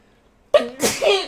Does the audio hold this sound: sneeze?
yes